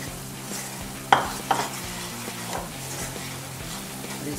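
A ginger-garlic style paste for dhaba-style dal palak roasts and gets stirred in a pan, with a steady sizzle and a couple of sharp utensil scrapes and clinks near the start.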